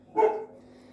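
One loud, close dog bark bursts out and fades quickly into a quiet indoor room.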